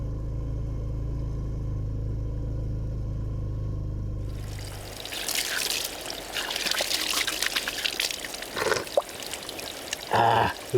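Water from a local spring pours and trickles steadily as it is collected for brewing, following a low engine rumble that cuts off at the start.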